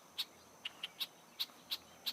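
Red-winged blackbird calling from the top of a tall, skinny tree: seven short, sharp chip notes spaced irregularly over about two seconds, clear and moderately close against a quiet outdoor background.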